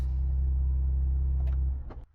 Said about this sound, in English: the car's running, let's turn it off.